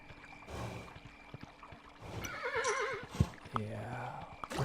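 A horse neighs in the video game Kingdom New Lands, a wavering whinny rising over soft background ambience, with faint hoof clip-clops and game sound effects around it.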